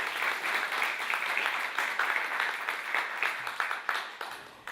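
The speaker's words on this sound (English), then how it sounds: "give a warm round of applause for Anne" A crowd gives a warm round of applause to welcome a guest speaker onto the stage at a forest and community talk, a dense, steady clapping that holds for the whole stretch without a pause.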